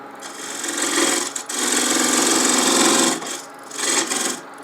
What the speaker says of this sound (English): I'm going to use a 3/8 inch spindle gouge. Just make a bead here.